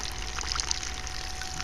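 Water rushes steadily through a homemade solar pool heater, a continuous close pour with no talking over it.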